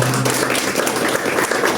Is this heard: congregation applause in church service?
yes